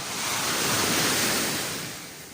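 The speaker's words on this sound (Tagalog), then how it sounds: "Maalon po dito." Rough ocean waves wash onto a beach in a continuous roar that swells and then eases slightly, with some wind noise and no voices.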